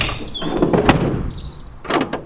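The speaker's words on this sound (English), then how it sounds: "And then when we shut the doors," Doors of a brand new Mercedes delivery van are pulled shut, a scraping slide followed by solid thuds and a faint mechanical squeal, close and alone without speech.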